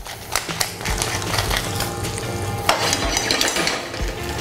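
Precooked potatoes frying in butter in a pan, a continuous close sizzle with repeated scraping and knocks of a utensil against the pan.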